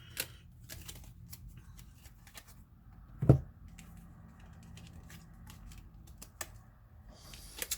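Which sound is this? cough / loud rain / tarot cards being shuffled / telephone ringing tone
tarot cards being shuffled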